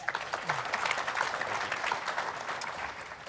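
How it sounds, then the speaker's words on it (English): Audience applause for a career-advice panel, a moderate, even round of clapping from a seated crowd, fairly distant and steady throughout. "One more round of applause for this great panel."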